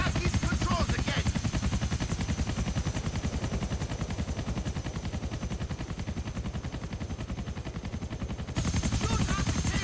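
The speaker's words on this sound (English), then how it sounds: "It's an air crane, bro." Rapid steady chopping of an air crane helicopter's rotor in GTA The Ballad of Gay Tony, loud and continuous for the whole stretch with a dense rumbling wash, briefly swelling louder near the end.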